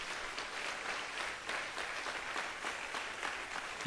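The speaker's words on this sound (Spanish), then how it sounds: "Dale un aplauso a Jesucristo" Applause from a church congregation during a Catholic charismatic program broadcast, a soft, steady patter of clapping that holds evenly throughout before a sudden loud burst at the very end.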